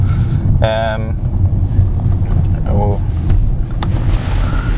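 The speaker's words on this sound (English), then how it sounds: "The engine sounds so buttery now that it is really joyous to listen to." Steady low rumble of a running BMW car engine after servicing, with wind noise over it, while a person speaks briefly and faintly in the background.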